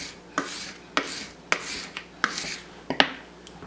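A bowl scraper pushed across a flour-dusted kitchen counter in short repeated rasping strokes, roughly one every half second, each starting with a sharp scrape, close and clear, with no talking.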